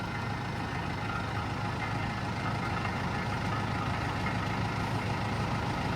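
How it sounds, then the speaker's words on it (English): A farm tractor runs with a spinning implement engaged, giving a loud, steady, unbroken mechanical roar and whir close by, with no break or change in level. "all he's got to do is push the lever in his tractor, start spinning."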